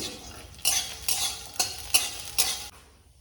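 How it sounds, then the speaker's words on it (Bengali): Chopped nuts fry lightly in ghee while a spoon stirs them, producing five distinct scraping, sizzling strokes in a steady rhythm, close and fairly loud. "এখন আমি বাদামটাকে একটু হালকা করে ভেজে নেব"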